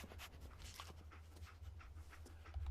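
Dogmeat, the dog companion in Fallout 4, pants in quick steady breaths close by, with a low game ambience humming underneath.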